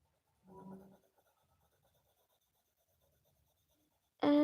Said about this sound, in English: 4B pencil